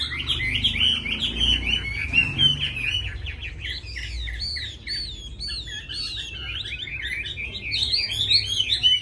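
A caged hwamei, the Chinese melodious laughingthrush, sings a bright, continuous stream of high, rapid warbles and whistled phrases close to the listener, over a low background rumble.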